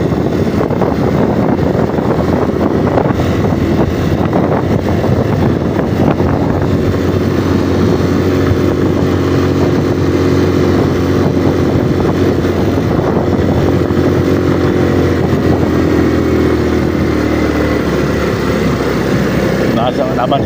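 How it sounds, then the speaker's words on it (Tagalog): A motorcycle loaded with anahaw palm leaves passes along a rural farm-to-market road, its engine a steady droning hum that runs through the whole stretch under continuous vehicle noise. "mayroon tayo nakasalubong na motor na mayroong kargang anahaw"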